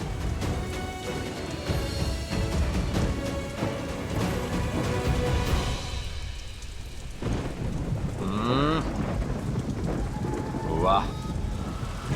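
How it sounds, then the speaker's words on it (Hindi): Heavy unseasonal rain pours steadily in a TV drama scene, with a dense hiss broken by a rumble of thunder, while a voice speaks briefly over it near the end. "बेमौसम बारिश, क्या हसीन मौसम हो गया"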